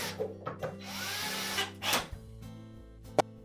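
Driving a retaining screw into the water inlet valve of an LG refrigerator, heard as short mechanical whirs and rubbing bursts with a few clicks and one sharp tap near the end, close and moderately quiet.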